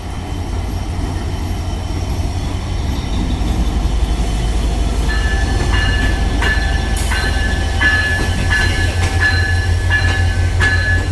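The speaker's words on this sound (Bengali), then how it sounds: "আন্তনগর রূপসা এক্সপ্রেস পার্বতীপুর রেলওয়ে জংশনের এক নম্বর প্ল্যাটফর্মে সঠিক সময় এসে প্রবেশ করলো" The Rupsha intercity express rolls into platform one of Parbatipur Railway Junction with a loud, steady rumble, rhythmic wheel clatter and a metallic squeal.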